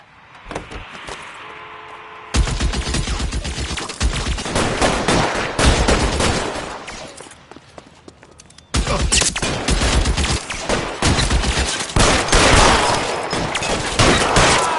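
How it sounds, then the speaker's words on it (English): A video game shootout set in 1940s Los Angeles, with dense bursts of rapid gunfire that drop away briefly and then resume heavy and loud, sustained volleys dominating throughout with no clear talk. "Open fire!"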